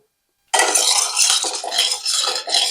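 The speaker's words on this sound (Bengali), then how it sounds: "তেল আমাদের গরম হয়ে গেছে, এবার আমি আলু ঢেলে দিলাম" Potatoes tipped into hot oil in a pan for a cauliflower prawn curry, a sudden loud clattering rush after a moment of silence, continuing as a busy sizzle with clinks of metal.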